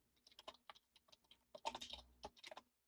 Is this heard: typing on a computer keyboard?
yes